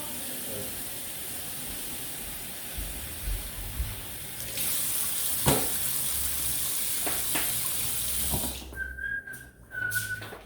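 A person whistles in the morning: two short, steady tones come near the end over a background of running water from a tap.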